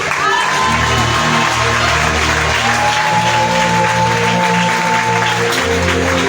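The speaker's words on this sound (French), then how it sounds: "Je n'ai pas entendu ton acclamation." A church congregation at a night vigil of spiritual deliverance bursts into loud, sustained applause and cheering, a dense wash of clapping and shouting voices over a steady low musical drone, continuing unbroken for several seconds.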